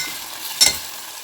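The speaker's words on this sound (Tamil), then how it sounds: "நம்மளோட மட்டன் நல்லா வதங்கிட்டுருக்கு" Mutton sizzles steadily as it sautés in hot oil, with a brief louder stir or scrape midway.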